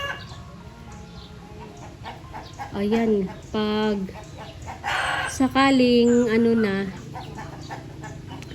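Chickens on a farm enclosed with netting, several hens clucking and cackling in loud close bursts while a person talks in the background.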